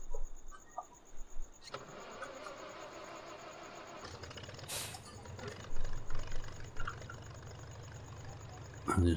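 A heritage tractor engine winds up and catches, shifting from a whirring crank to a low steady running rumble at close range, with someone speaking briefly.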